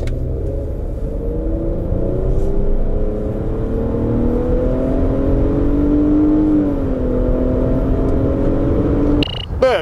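Infiniti QX60 3.5 AWD accelerating hard, its engine note climbing steadily in a smooth, continuous drone with rising harmonics, loud and close from inside the cabin before an abrupt cut near the end.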